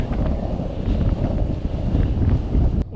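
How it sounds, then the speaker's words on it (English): Strong wind buffets the microphone on a Colorado 13er mountain peak, California Peak, a loud, continuous gusty rumble. "Wow, it was windy and cold up there."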